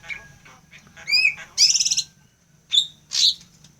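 A cucak decoy songbird gives several short, bright chirps and trilling calls in separate bursts, close and clear over a low background hum.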